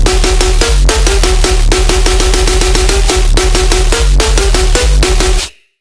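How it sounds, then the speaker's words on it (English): A heavy, wide, distorted tearout gun bass built only from Ableton stock effects blasts in loud, dense rhythmic stabs with gritty pitched tones, running continuously for several seconds before cutting off abruptly. "a heavy, wide, distorted tearout gun like you love it"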